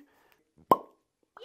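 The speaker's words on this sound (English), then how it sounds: "Cork pop." One sharp, hollow pop as the cork is pulled from a bottle of Widow Jane Decadence maple-finished bourbon, clear and close in a quiet room, with a soft voice murmuring briefly afterward.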